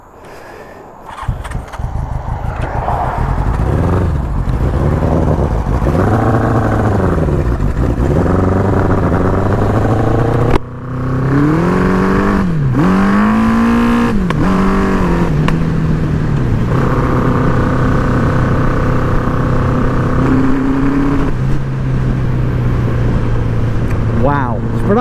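A 1983 Honda CB1000 C Custom motorcycle on a test ride roars close and loud, its engine revving up and down through repeated rising and falling pitch sweeps, with a brief dropout midway and someone talking over it.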